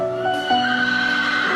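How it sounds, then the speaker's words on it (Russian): Horses neigh, a loud close whinny with rising and falling pitch, one call running into another over about a second and a half. "Где лошади мои?"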